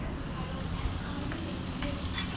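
Mee goreng fresh noodles being sautéed in a pan give a steady hiss and sizzle with faint stirring scrapes, while a person talks over it.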